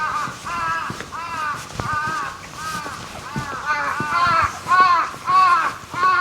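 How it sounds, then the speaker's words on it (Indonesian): Several crows caw repeatedly in a rural Japanese village, harsh calls rising and falling across the scene with someone talking intermittently underneath. "Burung gagaknya banyak tuh."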